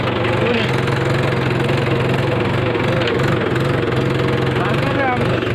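A tractor engine sowing seeds runs steadily and loudly throughout, a constant low mechanical chug with a rhythmic knocking pulse, close by.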